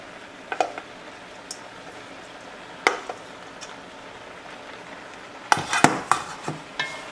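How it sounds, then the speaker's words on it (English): Cold rice is added to a pan of shrimp fried rice, giving a faint background sizzle. A few sharp spatula scrapes and clatters against the pan come and go, clustering near the end. "I'm gonna come in and add in my rice now"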